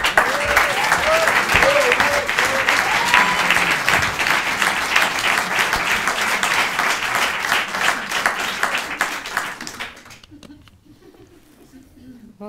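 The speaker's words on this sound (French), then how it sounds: "Je vous demande d'applaudir notre prix du public de candidateur l'année dernière" Audience applause at an evening comedy show fills the room with dense, loud clapping that holds steady, then fades out near the end as a voice begins.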